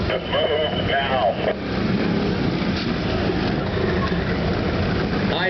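Ontario Provincial Police Golden Helmets precision riding team motorcycles, engines rumbling and droning steadily at moderate distance under a voice speaking over them.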